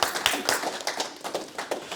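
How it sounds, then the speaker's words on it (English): A small business networking meeting audience claps briefly, a short burst of quick close hand claps lasting about two seconds. "let's clap"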